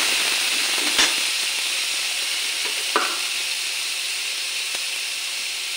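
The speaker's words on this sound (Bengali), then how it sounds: "অল্প করে একটু আদা দেব। মশলাটা ভালো করে কষে নিই।" Onion paste and a little ginger fry in a pan as a steady, close hiss, with a few scraping stirs breaking through the sizzle.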